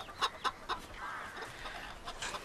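Chickens cluck in a quick series of short, fairly faint calls, a few sharp clucks followed by a softer drawn-out note and more clucking, with no talking.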